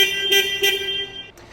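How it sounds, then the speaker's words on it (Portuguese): Steering-wheel horn on a combustion forklift, model CPQYD35-XF2, sounding as a steady electronic tone with two short louder pulses before it cuts off, close and clear with no talk. "Esse equipamento também tem buzina na direção."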